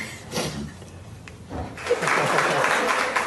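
A small group welcomes a recovered patient home with applause that starts scattered and quiet, then swells into steady clapping over the last second and a half, with faint voices mixed in.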